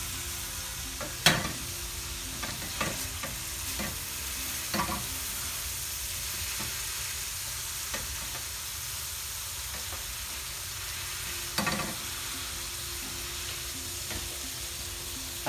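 Shami kebabs fry on a griddle pan with a steady, dense sizzle that carries on without a break, broken now and then by a sharp crackle or spit, heard close with no talking.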